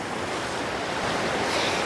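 Water streams pouring into a large vortex, a dense continuous rushing roar with a windy edge, steady and fairly loud throughout, with no voices.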